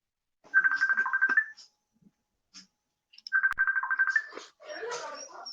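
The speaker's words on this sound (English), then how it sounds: "somebody's phone's going off or something" A phone rings twice with a short buzzing electronic ringtone, each ring lasting about a second, fairly close and clear, followed by a brief burst of other noise.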